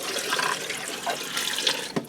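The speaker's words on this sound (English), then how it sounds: "I'm going to add in just enough water to cover the shells." Water splashing and running into a Ninja Foodi pot over pasta shells, a steady liquid pour with small gurgles and a brief bump near the end.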